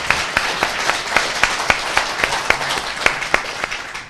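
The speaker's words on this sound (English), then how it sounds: "please a big round of applause for your candidates." A crowd applauds debate candidates at a candidates' debate event, steady dense clapping with sharper individual claps standing out, moderately loud and sustained throughout.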